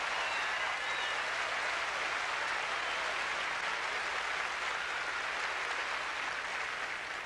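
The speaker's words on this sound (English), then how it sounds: "I'll say anything to get applause" Sustained audience applause at the 1979 Miss USA pageant, a dense, even wash of clapping from a large crowd that holds steady throughout.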